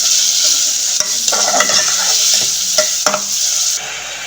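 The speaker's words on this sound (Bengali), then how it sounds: "পেঁয়াজগুলো আমি কষিয়ে নেবো" Chopped onions sauté in a pan for a restaurant-style Bangladeshi chickpea dal, giving a loud, steady sizzle punctuated by several sharp stirring scrapes before the hiss suddenly eases near the end.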